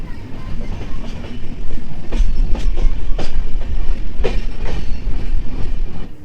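Onboard the Jagannath Express running from Puri to Shalimar, a loud steady rumble of wheels on rails carries rhythmic clickety-clack beats throughout, heard from inside the moving train.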